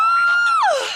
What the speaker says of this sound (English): She shrieked,